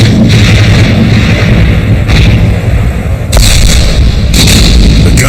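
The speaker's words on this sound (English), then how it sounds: "340 guns began the heaviest bombardment the British Army had ever seen" A massed British artillery bombardment at Neuve-Chapelle in 1915, from 340 guns, rumbles as a loud, continuous deep roar with several heavier booming bursts standing out above the din, and no voices.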